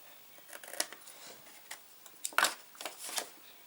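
Crisp, close snips sound as the corners are cut off a paper envelope: a handful of quick, irregular cuts in a quiet room.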